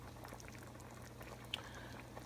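Ham hock stock, or pot liquor, boils in a pot as a very faint, low bubbling with small pops and one brief sharp tick, alone and steady throughout.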